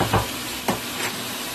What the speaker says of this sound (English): I'm just going to go ahead and stir